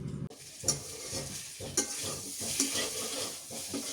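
Sliced pointed gourd (potol) sizzles steadily in hot oil in a pan, with a spatula scraping and stirring through it at a few sharp, clinking moments over the continuous frying hiss.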